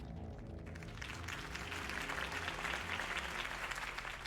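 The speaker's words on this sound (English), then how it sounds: "could have heard that applause" Steady crowd applause in the video game Batman: The Telltale Series swells and holds, a dense wash of clapping that sounds fairly close and fills the whole stretch.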